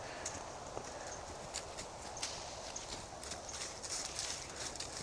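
Thoroughbred horse cantering, with soft rhythmic hoofbeats spread through the clip over a steady hiss of outdoor background noise.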